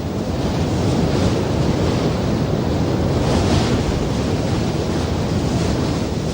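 Loud, continuous roar of ocean surf pounding the shore at Ngawi on the New Zealand coast, mixed with gusty wind buffeting the microphone, no voices.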